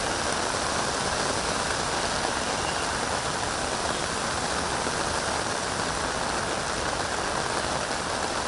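Heavy rain pouring down over Hyderabad city, a dense, steady roar of downpour on streets and surfaces that holds constant and loud throughout with no voices.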